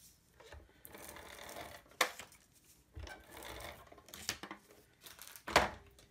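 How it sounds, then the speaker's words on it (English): An advanced tape glider (ATG) running adhesive tape along the edges of a paper card piece: soft, close rattling runs of a second or so each, separated by sharp clicks and taps, quiet overall. "I am using my advanced tape glider. And so I am just going to run some tape on the edges of this."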